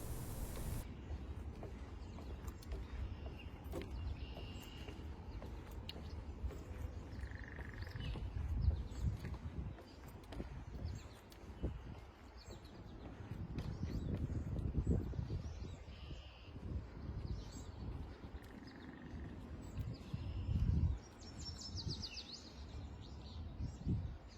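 Scattered bird calls and chirps drift over a steady outdoor hiss in a wetland along the Erie Canal, some near and some distant, with occasional low rustling.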